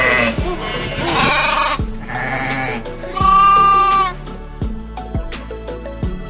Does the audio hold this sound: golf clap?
no